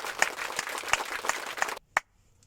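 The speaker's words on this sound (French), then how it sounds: "Un maximum d'applaudissements pour Roméo." Brief applause for a storyteller's character: a thin patter of a few hands clapping for under two seconds, then one last clap, faint and close.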